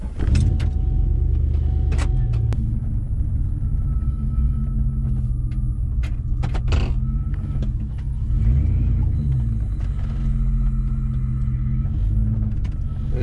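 A GMC car on a short test drive, heard from inside the cabin as a steady low engine and road rumble that stays loud and continuous, with a few faint clicks and no talking.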